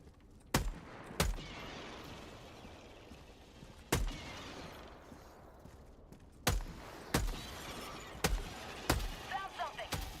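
Gunfire from an overheating weapon in Helldivers 2 rings out as loud, sharp separate shots, first spaced apart and then in a quicker run near the end, over steady game background noise.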